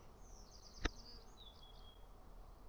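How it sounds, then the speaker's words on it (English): Bees crowd the front entrance of a backyard hive, their buzzing thin and faint, broken by one sharp click partway through. "There are a lot of bees at the front door."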